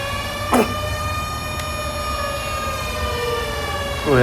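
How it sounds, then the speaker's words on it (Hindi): A siren wails at night in Dubai, rising and falling in steady sweeping tones from some distance, a sustained moderate drone with brief swells at the start and end and no talking. "सायरन बज रहा है।"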